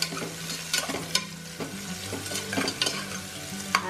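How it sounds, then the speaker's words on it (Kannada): Ingredients being stir-fried in a pan for fresh field bean sambar, a close sizzle broken by repeated sharp spatula scrapes and taps against the pan at an uneven pace. "ಇದನ್ನ ಸ್ವಲ್ಪ ಫ್ರೈ ಮಾಡ್ಕೋಣ।"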